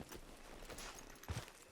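Horse hooves clip-clop faintly in Red Dead Redemption Online, a few soft irregular steps in an Old West setting, with a slightly louder pair of hoof knocks near the end.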